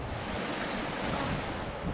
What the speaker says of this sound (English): we got to hang out at the river and listen to the rapids